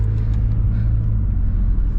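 Inside a car on a road in Kyrgyzstan near Issyk-Kul, a steady low engine and road rumble drones loudly and evenly throughout, with faint higher rattles above it and no talking.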